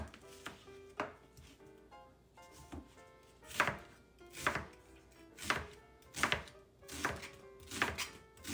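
Knife slicing through peeled onions on a cutting board for Lebanese onion and meatball soup: a steady series of crisp, close chopping thuds, roughly one per second, growing louder and sharper toward the end, with no talking.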